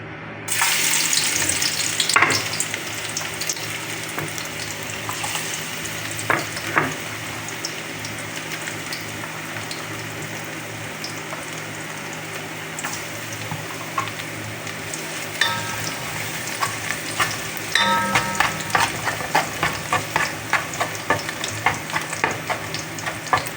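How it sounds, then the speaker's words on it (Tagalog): Garlic sautés in a pan for liver and gizzard adobo, a steady close sizzle with occasional stirring clicks and scrapes running throughout without talk. "Una po natin ilalagay ang ating bawang."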